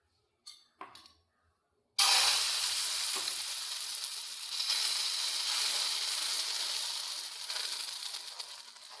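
A maida-flour dosa fries in oil on a pan. After a few faint clinks, a loud, close sizzle bursts in suddenly and holds steady, swelling slightly and then easing off.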